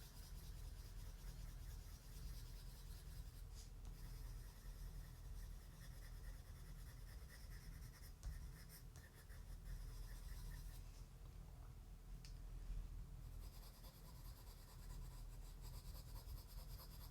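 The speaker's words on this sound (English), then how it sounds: "We're gonna let our pencil pick up these blues and we're just gonna slowly drag it out." A colored pencil shades and drags lightly across paper on a Halloween artwork, giving a faint, steady, close scratching and rubbing with brief pauses and no talking.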